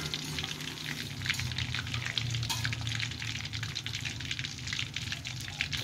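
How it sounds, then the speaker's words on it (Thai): Pangasius fish frying gently over low heat, a steady soft crackling sizzle with continuous bubbling and light popping, close and even throughout with a low hum underneath. "เอาปลาลงก่อน ทอดใจเย็นๆทอดไฟอ่อนๆนะจ๊ะ"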